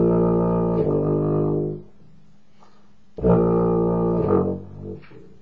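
Brass instrument such as a tuba or euphonium, sounding held notes with different valves pressed, two sustained tones separated by a short gap, the second note shifting in pitch, close and full.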